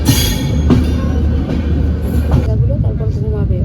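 The 12030 Swarna Shatabdi Express pulls out of Amritsar with a steady, loud rolling rumble and a bright hiss that fades after a few seconds, while people talk nearby.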